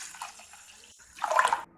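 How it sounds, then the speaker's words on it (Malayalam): Water is poured into a vessel of washed Double Horse matta rice. A soft trickle swells into a short, splashy gush close by, then stops abruptly, with no talk. "ഇനി ഇതിലേക്ക് നമുക്ക് കുറച്ച് വെള്ളം ഒഴിക്കണം."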